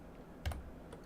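A single soft click of Control or Alt being pressed on a Japanese computer keyboard, short and close against quiet room noise.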